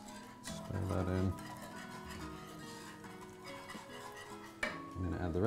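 A spoon stirs bouillon into tofu gravy in a pan, with soft scraping and clinks against the metal, a brief loud stretch early and another at the end, under a quiet background hum.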